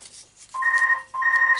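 A telephone rings during an incoming scam call from an internet service provider, two loud electronic ring bursts with a short pause between them, heard alone in a quiet room.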